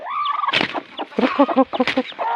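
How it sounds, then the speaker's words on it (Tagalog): Chickens cluck in quick, choppy bursts close by, with a few sharper squawks mixed into the busy fowl chatter. "Nakanig mga manok diri guys"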